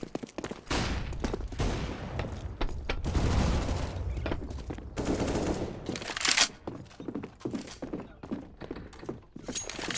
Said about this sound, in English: I am throwing a grenade. Throwing a flashbang.